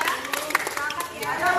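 A crowd at a volleyball prize ceremony claps in a lively, uneven burst of hand claps mixed with chatter and voices close by.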